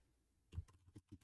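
Keystrokes on a computer keyboard while typing into Notepad, a short burst of several quiet, uneven clicks heard close and alone.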